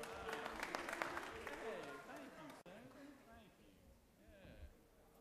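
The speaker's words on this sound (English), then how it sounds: "Give him another round of applause right there" A crowd in the Georgia Senate chamber claps steadily for a couple of seconds, then the applause dies away into murmuring voices and chatter.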